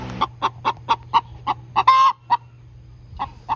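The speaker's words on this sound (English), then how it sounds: "The hens will do this after they lay an egg to announce to all the other chickens that they've laid" A hen cackles after laying an egg, a quick series of sharp, evenly spaced clucks rising into a louder squawk before a few more clucks.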